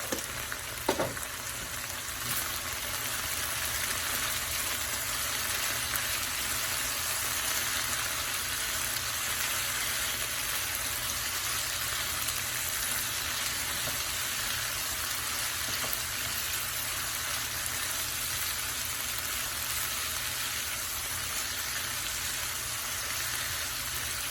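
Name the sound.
okra frying with turmeric and dried chili powder in a pan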